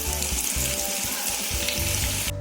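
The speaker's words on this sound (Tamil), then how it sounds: "வச்சுருக்க வாழைக்காவையும் நம்ம இந்த மாதிரி எண்ணெயில் போட்டு பொரிச்சுட்டு வந்துடலாம்." Raw banana slices fry in hot oil, a loud, close, continuous sizzle with bursts of crackling and bubbling throughout the short stretch.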